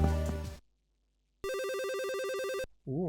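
An electronic phone in the video game Zone of the Enders rings with a steady warbling tone after a short silence. The ring stops and a wavering synth sound follows, with no talking.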